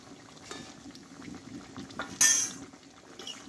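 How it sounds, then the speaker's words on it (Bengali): A drumstick and vegetable curry with gondhoraj lemon simmers in a pot with faint, low bubbling, broken once by a sharp metallic clink from a utensil, quiet and close with no voices. "আর কিছুক্ষণ ফুটিয়ে নেব"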